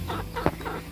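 A backyard chicken clucks in a few soft, quick bursts close by, with one sharper note in the middle, over steady outdoor background noise.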